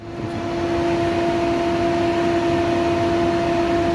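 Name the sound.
factory radiator cooling fan running on Jeep Cherokee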